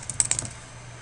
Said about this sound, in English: Type in the title of that axis